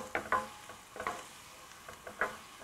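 Curry leaves and bay leaf fry in a pan with a faint crackle, while a utensil gives several quiet, separate stirring scrapes and taps.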